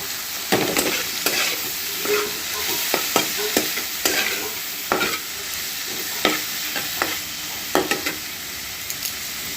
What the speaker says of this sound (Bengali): আবার একটু আমি এটাকে নেড়ে চেড়ে দেবো।